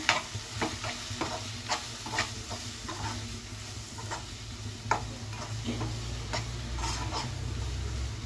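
Egg palak curry seasoned with chilli powder, chicken masala and salt being stirred in a pan, a steady soft sizzle under repeated scraping clicks from a spoon, close and moderately quiet, no talking.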